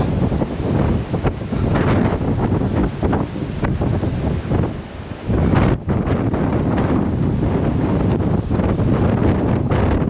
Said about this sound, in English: the wind is so loud